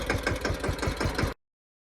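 A car engine idles close by after being started, a steady rhythmic mechanical chug with regular pulses, then cuts off abruptly into silence.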